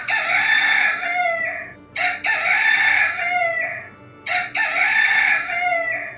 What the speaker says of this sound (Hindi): वह उन्हें देखकर जोर जोर से बांग देने लगता है।